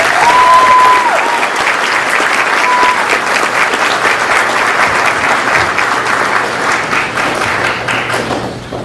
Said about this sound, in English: can you join me in giving all of our student performers one more round of applause?